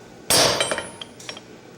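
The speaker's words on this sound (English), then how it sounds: "Go ahead and chamfer on the corners with the hammer." A smith's hammer strikes hot metal at a forge while chamfering the corners of a workpiece: one loud ringing blow followed by several lighter, quicker taps, close and unaccompanied by speech.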